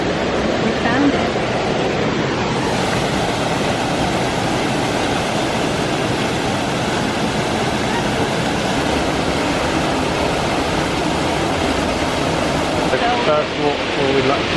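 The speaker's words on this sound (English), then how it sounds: "First waterfall in Luxembourg." Water rushes steadily down two small cascades of a waterfall on the Mullerthal trail in Luxembourg, a dense, continuous roar heard close by from the path.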